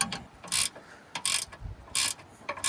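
A hand ratchet works loose a bolt on a Draw-Tite front hitch receiver on a 2012 Ford F350, giving several quick bursts of sharp, close clicking separated by short pauses, with no talking.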